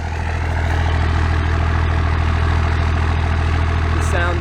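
An old truck's engine idles nearby with a steady, loud, low rumble and an even throb throughout, and a brief voice cuts in near the end.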